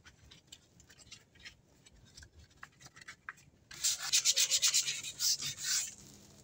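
Quiet scattered scraping first, then a burst of rhythmic back-and-forth rubbing as sandpaper is worked by hand across a wooden door, fairly close and with no talk.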